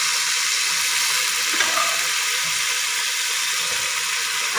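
Beef pulao ingredients frying in hot oil, giving a steady close sizzle that holds at an even level throughout, with a faint stir partway through and no voices.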